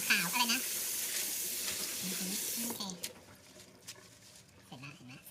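Loud hissing sizzle as vegetables and white cabbage are stir-fried in a pan, steady at first, then dropping to scattered stirring clatter, with someone talking over it throughout.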